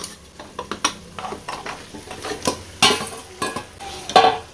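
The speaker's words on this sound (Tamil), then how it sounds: "அந்த எண்ணெயிலேயே பீஃப் ஒரு 5 நிமிஷத்துக்கு ஸ்டவ் லோ ஃப்ளேமில் வச்சு நல்லா வதக்கி விட்டுக்கலாம்" Marinated beef sautés in oil in a pot on low flame for biryani, with a soft sizzle under repeated close scraping and clattering of a spoon stirring against the pan.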